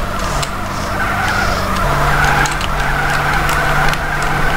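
Car tires spinning and skidding while drifting through a corner in GTA San Andreas, a loud continuous screech over a steady engine drone whose pitch drops partway through, with no talking.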